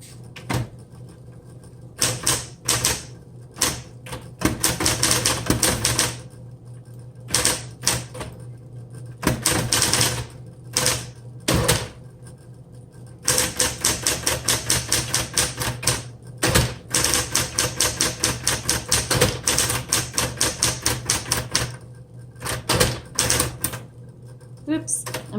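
A 1960s Smith Corona Coronet Super 12 Coronomatic typewriter clatters with crisp keystrokes, first in short bursts with pauses, then in a long fast run of rapid, even taps, loud and close.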